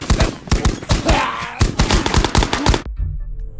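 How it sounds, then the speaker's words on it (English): Rapid, loud gunshots from a poor-quality gun in the VR shooter Ghosts of Tabor, firing in quick irregular bursts near the listener for nearly three seconds, then cutting to quiet. "I only shot 2 bullets out of this really bad gun"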